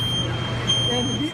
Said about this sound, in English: before the ionization smoke alarm finally went off